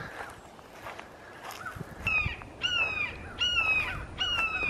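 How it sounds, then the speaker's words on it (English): Repeated loud bird calls from a hawk or similar raptor, several harsh cries in a row outdoors with footsteps and background noise. "I think that's a hawk or something."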